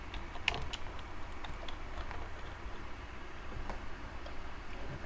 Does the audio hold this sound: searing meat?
no